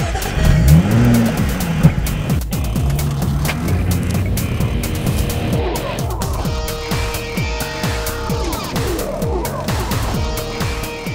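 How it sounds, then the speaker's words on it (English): A Jaguar F-Type Coupe's V6 engine, paired with an 8-speed gearbox, revs and accelerates loudly up close, its rasping note climbing and dropping through shifts for several seconds with no talking. "That V6 engine is calling my name."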